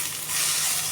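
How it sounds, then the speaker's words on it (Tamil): Tomatoes hiss and sizzle in hot oil in a pan, a brief, even frying sound with a small knock at the very end. "இந்த தக்காளி பழத்தை போட்டு நல்லா ஃப்ரை பண்ணணும்"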